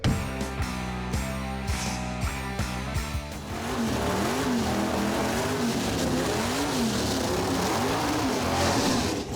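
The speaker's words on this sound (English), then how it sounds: "Not sure about that burnout. That wasn't a good burnout for 50 degrees out here." A drag racing car does a burnout on a cool 50-degree day at a dragway, a loud engine roaring with wavering revs and tire spin that builds into a steady harsh wash of noise.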